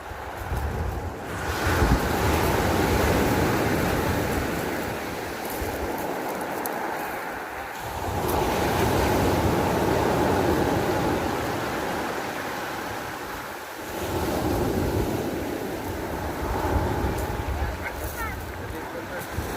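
Tyrrhenian Sea waves breaking on an Italian shore in September, with steady loud surge and wash mixed with wind noise, swelling and easing in long cycles.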